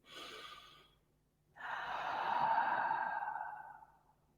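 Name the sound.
quiet exhalation through the mouth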